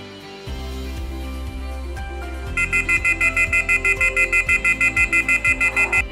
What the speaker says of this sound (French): Lorsque le vélo va se déplacer, l'alarme va retentir.